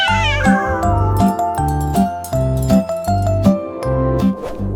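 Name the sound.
cat meowing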